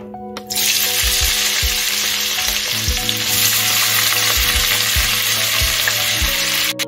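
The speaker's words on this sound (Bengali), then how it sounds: "আমি পেঁয়াজটাকে গোল্ডেন করে ভেজে নেব।" Sliced onions frying in ghee for egg pulao, with a loud, continuous close sizzle and repeated low knocks of a spoon stirring in the pan.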